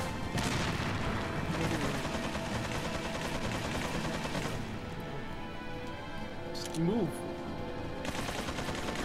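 A chain gun fires in Resident Evil 4, loud sustained bursts of rapid automatic fire near the listener with a short pause, and a voice speaks briefly over it.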